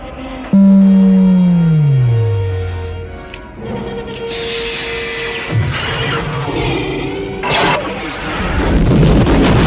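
The Death Star's primary ignition effect from Star Wars: a deep descending hum sweeps downward, then gives way to rising whooshes and crackling energy bursts that build toward a rumbling blast, with no voices.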